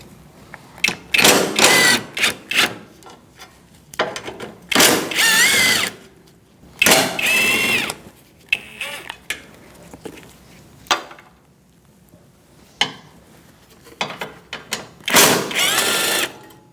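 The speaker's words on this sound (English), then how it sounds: "Using a 10mm socket, we're going to undo these two bolts, and then also these two" A powered 10mm socket spins out bumper bracket bolts on a 2008-2014 Mercedes-Benz C300. Short, loud, close whirring bursts of varying length repeat, separated by quiet gaps.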